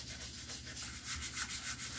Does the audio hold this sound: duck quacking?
no